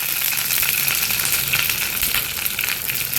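Curry leaves and garlic dropped into hot oil for a jackfruit-seed and mango curry, giving a bright, close, continuous crackling sizzle with no one talking.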